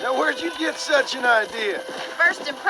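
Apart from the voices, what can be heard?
No everyday noises stand out.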